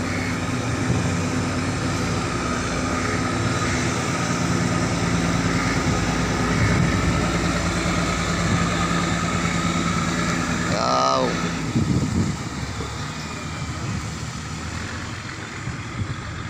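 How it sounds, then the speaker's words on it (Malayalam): A boat passing on the water nearby, its steady engine drone running loud and continuous before fading and dropping away toward the end. "ഇപ്പോൾ അതാ ബോട്ട് ഒരെണ്ണം വരണതാണ് കാണുന്നത്"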